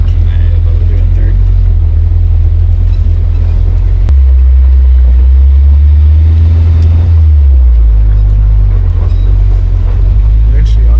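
A 1984 Toyota 4Runner engine rumbles low and steady in third gear while driving off-road, loud and close, with a brief pitch shift partway through and faint talk underneath.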